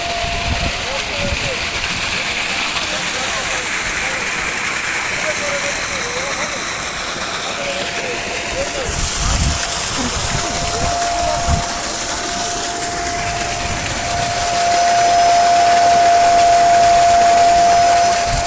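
A 3-inch delivery solar water pump run through a VFD from ten panels pours water in a steady, loud rushing gush, with an engine-like hum underneath and the flow swelling louder toward the end.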